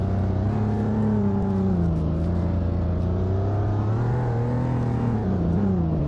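A truck's engine revs steadily while off-roading up a hill in a video game, a loud continuous drone with rising and falling pitch throughout, no voices.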